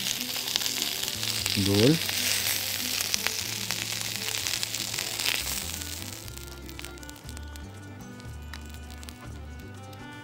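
Chicken with white beans sizzling and frying in a pan while being stirred, steady crackle with scraping stir sounds early on, and a brief spoken word near the start.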